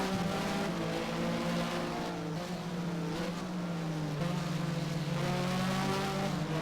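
Porsche Mobil 1 Super Cup race car in Race07 at Catalunya braking hard, its engine note loud and close, pitch sliding down and wavering before steadying under continuous drone.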